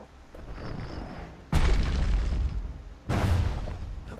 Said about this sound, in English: Ooh, a grenade.